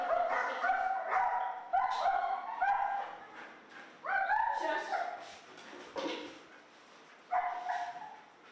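A dog at home makes a series of short yips, whimpers and barks in uneven bursts, fairly close and moderately loud, with gaps of quiet between the outbursts.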